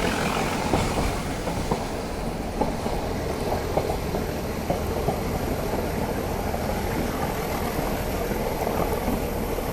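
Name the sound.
Nilgiri Mountain Railway toy train running on tracks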